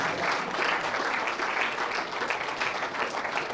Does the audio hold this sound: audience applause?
yes